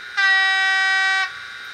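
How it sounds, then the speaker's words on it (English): A Fleischmann 739377 model locomotive gives one short, steady electronic whistle lasting about a second, clear and close, with faint background hiss around it and no voices. "short whistle"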